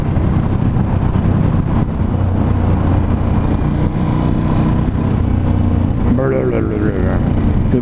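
A Ducati Scrambler 1100 Special motorcycle's exhaust rumbles steadily and loudly while riding, heavily buffeted by wind across the microphone, with a brief voice rising over it near the end.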